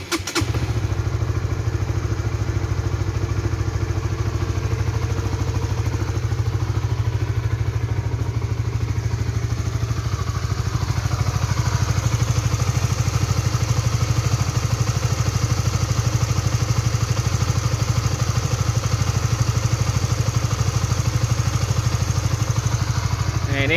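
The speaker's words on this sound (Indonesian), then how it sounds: "Sekarang baru mencapai 1700 kilo, tapi suaranya udah kasar banget ya di mesin." A motorcycle engine running on Shell Advance oil idles roughly after 1700 km, a loud steady low drone with clattering mechanical noise throughout.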